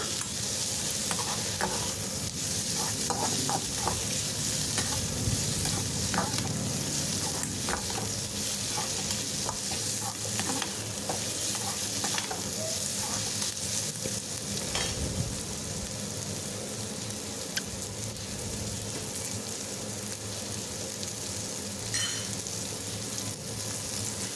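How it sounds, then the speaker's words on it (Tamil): Grated coconut sautéing over medium flame in a pan for chutney, with a steady sizzle and frequent scraping stirs of a spatula throughout, close and continuous, no talking. "இந்த டைமில் நம்ம ஒரு கப்பு தேங்காய் ஆட் பண்ணிக்கலாம் தேங்காயும் நல்லா வதங்கி வரணும்"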